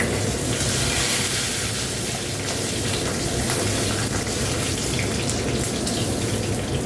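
Bitter gourd and bay leaf fry in a pan with a loud, steady hiss and crackle of hot oil, a dense sizzle that holds throughout without a break.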